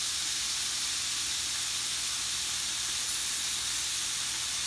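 Morel mushrooms cooking in a hot pan give off a loud, steady, unbroken hiss of steam and sizzle as their moisture cooks out.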